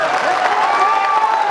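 A live Bhojpuri stage show crowd at a Holi performance claps steadily for the whole brief moment, a dense, even patter of hands with no gaps and no voices over it.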